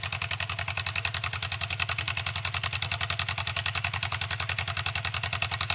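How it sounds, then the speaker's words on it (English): A John Deere M tractor's upright two-cylinder engine runs steadily, its regular, even firing pulses close and loud with no one talking. "Them stand-up motors kind of got a keen sound to them."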